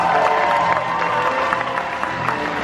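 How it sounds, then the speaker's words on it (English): An audience at a pirate dinner show in Orlando claps and cheers as a cast member is introduced, a steady crowd applause with scattered whoops filling the room. "Please give a warm round of applause"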